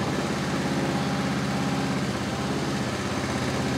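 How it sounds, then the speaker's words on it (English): A small Honda GX160 engine on a JCB tracked barrow chugs nearby with a rapid, even low-pitched put-put at idle, continuous and unaccompanied by speech. "Little Honda GX 160 engine on the back."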